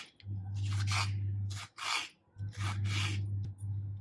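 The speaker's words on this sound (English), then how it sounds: "First cut it all into thin strips like this" Orange peel is sliced into thin strips for chutney, giving a series of close, crisp cutting strokes in short bursts over a low, steady hum.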